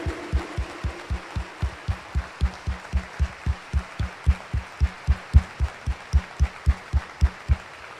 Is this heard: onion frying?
no